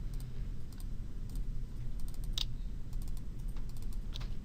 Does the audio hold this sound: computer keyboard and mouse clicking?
yes